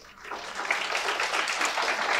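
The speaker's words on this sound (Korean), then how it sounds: "큰 박수로 맞이해 주시기 바랍니다" Audience applause welcomes a researcher and author onto the stage at a staff town hall meeting, a steady wash of many hands clapping at moderate loudness with no talk over it.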